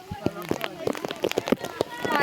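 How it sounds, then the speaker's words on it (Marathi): Heavy rain in dense fog at the Matheran hill station, with a close, crackling patter of drops on surfaces while people talk over it. "पाऊस आहे ना खरंच."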